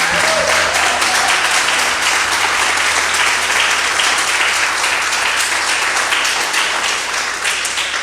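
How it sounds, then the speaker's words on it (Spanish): Congregation applauding during a church worship service, a dense, steady wash of many hands clapping close by that holds for the whole stretch with no talking. "Ahí le vamos a dar un aplauso al Señor."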